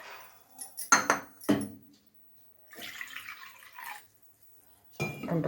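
One and a half cups of water are poured into a kadai pan that was just used for roasting flour. Clattering bursts of utensils on the pan are followed by a steady splashing pour, with no voices.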